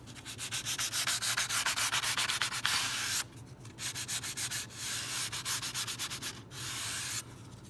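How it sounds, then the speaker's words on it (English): Sandpaper rubbing a wooden guitar back strut in rapid rhythmic back-and-forth strokes, close and loud, in two bursts separated by a brief pause. "right there, I think I'll sand that just a little bit"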